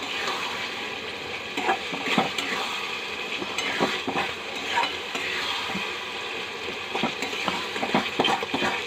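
A spoon stirs small mourala fish in a tomato gravy in a frying pan, scraping in quick irregular strokes over a continuous close sizzle. No voices are heard.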